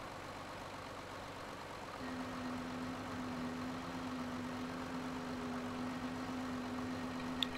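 A farm tractor's engine idles and runs steadily in Farming Simulator 2013, a low mechanical hum that steps up with a firm tonal drone about two seconds in and holds to the end, with a small click near the close.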